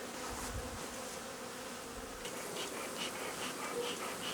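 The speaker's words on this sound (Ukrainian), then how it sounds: "Тепер бжілки можуть вільно залітати і вилітати з вулика." A swarm of honeybees buzzes close by around an alpine hive, a continuous droning hum with individual insects whirring past, no voices.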